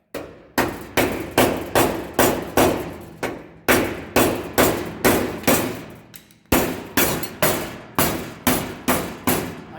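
A hammer strikes the body panel of a 1948 Chevy truck in a fast, steady series of loud metallic blows, about twenty hits with a short pause partway through.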